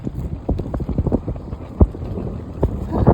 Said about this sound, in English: I'm also battling the wind that's trying to blow the pram away. It's super windy.